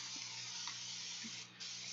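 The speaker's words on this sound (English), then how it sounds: "Now I'm going to give this background paper a nice light spray" A continuous close hiss of a spray bottle misting background paper, steady and unbroken for the whole moment.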